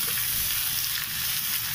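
Vegetables for Maggi noodles sauté slowly over medium-low heat, a dense, even frying sizzle heard close up and without a break; no talking.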